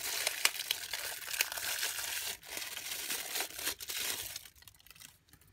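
Packaging of a Vocabox talking TV device being opened, with soft crinkling, tearing and rustling of cardboard and plastic, close and fairly quiet, fading out at the end.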